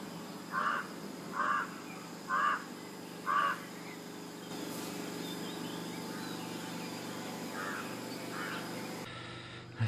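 Four loud, evenly spaced crow caws ring out over a steady generator hum in the foreground in Ella, Sri Lanka, followed by a couple of fainter distant calls while the hum continues.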